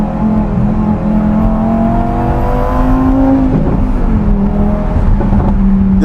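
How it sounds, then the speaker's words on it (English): A Lamborghini sports car engine downshifts, loud and close, its steady exhaust drone shifting in pitch as the revs change, with no voices over it. "It's downshifting too quick."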